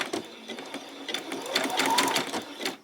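A sewing machine stitches fabric for a small peasant top, its needle running in a steady rapid patter that rises slightly toward the end, close and clear with no talk.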